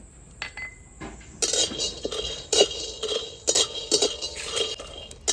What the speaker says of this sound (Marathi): त्याच्यात आता शेंगदाणे टाकून घेऊ शेंगदाणे आपल्याला खरपूस भाजायचे